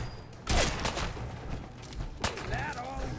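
Gunfire in the video game Fallout 4, a couple of loud, sharp shots amid noisy combat, with other game sounds around them.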